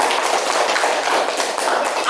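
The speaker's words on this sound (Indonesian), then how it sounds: "tepuk tangan dulu" Students clap together in a classroom at a school lesson, a dense, continuous patter of many hands lasting about two seconds, with voices mixed in.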